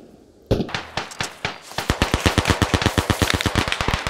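Rapid bursts of machine gun fire from a World War I Chauchat or similar MG in the Beyond the Wire shooter, loud and close, starting with spaced single shots then settling into a steady fast rattle.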